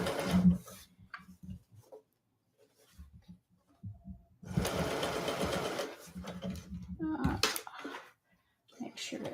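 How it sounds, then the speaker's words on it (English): A sewing machine stitches past a seam in several short bursts and one longer run, close and clear, while a person talks in between. "I've just sewn past my seam"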